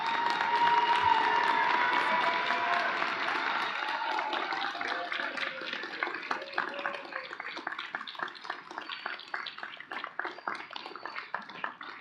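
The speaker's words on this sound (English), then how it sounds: "Now that was a great hearty applause." Audience at a pharmacy school white coat ceremony for the Class of 2028 applauds and cheers, a loud dense wash at first that thins into scattered individual claps toward the end.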